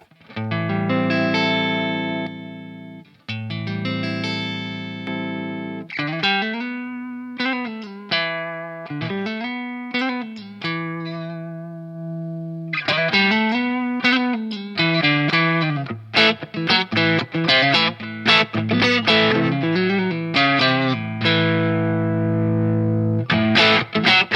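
Overdriven electric guitar through a Sonicake Blue Skreamer pedal on its Tubescreamer setting, playing chords and bending single-note riffs, gritty and sustained, with short pauses between phrases and no talking.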